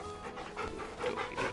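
A wolf companion pants in the Final Fantasy XVI video game, quick rhythmic breathy huffs repeating close up and fairly quiet, with no voices over them.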